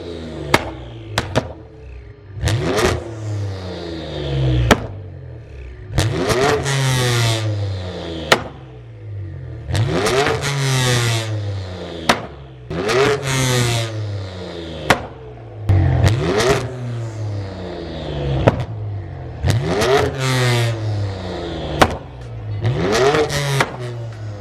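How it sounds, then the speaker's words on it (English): An 800hp BMW F80 M3 engine revved hard while parked: repeated loud rev bursts climbing and dropping, about a dozen sharp blips with crackling pops between them, very close and loud, no talking. "he's gonna rev it real quick so we can get one last revving shot"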